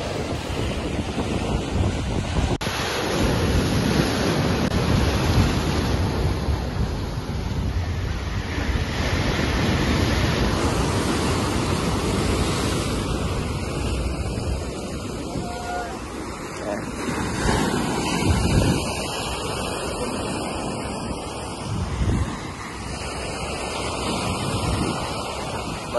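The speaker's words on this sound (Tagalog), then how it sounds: "Malakas yung alon." Strong ocean waves surge and crash continuously while gusty wind buffets the microphone, a loud, rough rush of water and air.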